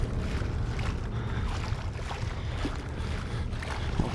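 Wading or moving through water in the horror game Outlast 2, a steady dense sloshing and rushing noise that runs continuously at an even level with no talk over it.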